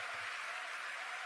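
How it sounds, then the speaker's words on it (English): An audience applauding at a One Young World speech, dense steady clapping like a broad hiss, continuous and fairly distant for the whole moment, with no voices over it. "Who is applauding this?"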